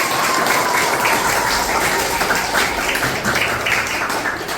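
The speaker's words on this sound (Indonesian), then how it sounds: "Kasih tepuk tangan untuk kelompok 4." Steady clapping from a room full of people, a dense even patter that carries on throughout without pause.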